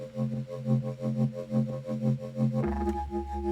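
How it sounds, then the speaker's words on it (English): Fluttering synth mid bass in a glitchhouse track, an LFO sweeping the wavetable position and volume, pulsing in quick regular wobbles before dropping to a lower, fuller note near the end. "The only other bass element is this mid bass with an LFO affecting the wavetable position and volume,"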